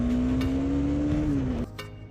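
Husqvarna Svartpilen 250 motorcycle with a 250cc liquid-cooled four-valve single-cylinder engine, holding a steady rising engine drone that climbs gradually, then drops off sharply near the end as the throttle closes; loud and close, no talking.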